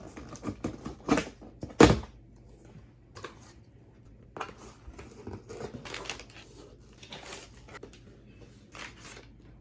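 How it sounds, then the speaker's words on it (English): Scissors snip and crunch through a cardboard shipping package in irregular clicks and cuts, a couple of sharper snaps near the start, then quieter scattered cutting sounds. "we're just gonna go ahead and finish opening it with scissors"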